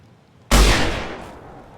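A single loud, close shotgun blast in the VR game Blade & Sorcery, a sudden sharp crack after brief quiet followed by a fading rumbling tail.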